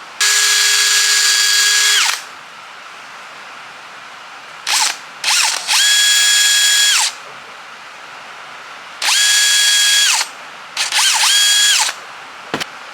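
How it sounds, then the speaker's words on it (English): A power drill bores holes in a piece of bark being carved into a fishing lure, in several loud whining bursts that rise and fall as the trigger is squeezed, with short pauses between them. "holes drilled"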